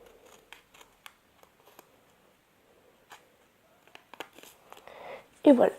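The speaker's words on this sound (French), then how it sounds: "D'abord, on va prendre les ciseaux parce qu'il y a encore un peu de bleu." Scissors snipping paper in a quiet indoor space, a few soft sparse cuts and crisp ticks building to a louder close snip and rustle near the end.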